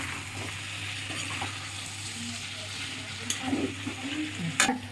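Rice frying and being stirred in a pot with nearly cooked chicken, salt, bay leaf, cardamom and cinnamon, a steady low sizzle broken by a few scraping stirs near the end, with no talk.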